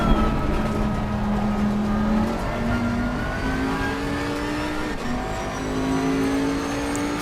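A Bentley GT3 race car from the 2018 season laps Mount Panorama at Bathurst in Assetto Corsa Competizione, heard from the cockpit, its engine droning loud and continuous as it climbs through the gears on a long uphill straight.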